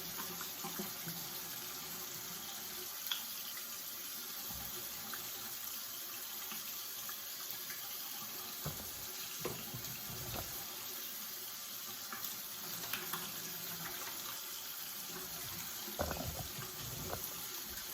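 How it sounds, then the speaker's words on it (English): Water runs steadily from a tap into a bathroom sink during face washing, a constant hiss with occasional soft splashes and patting as hands move through the stream, with no talk. "I'm gonna wash my face."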